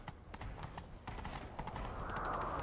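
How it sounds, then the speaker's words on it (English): Horse hooves gallop in The Witcher 3 video game as a fairly faint, steady clip-clop rhythm that runs the whole time, set against low game ambience and a rising whoosh near the end. "Grab a horse, we'll chase him down."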